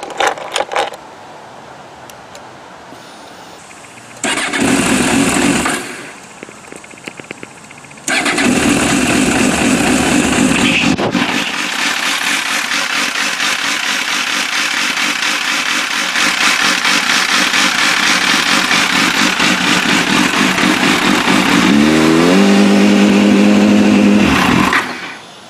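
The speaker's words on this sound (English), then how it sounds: "Let's see what happens when we start it up." An MV Agusta F4 motorcycle engine cranks and catches, sputters briefly, then settles into a loud, steady idle with occasional throttle blips, close by, with no talking.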